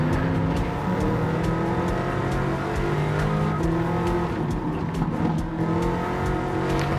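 A 2016 Bugatti Chiron racing on the 24 Heures du Mans track in a driving game, its engine droning steadily at high revs with faint shifts and tire noise.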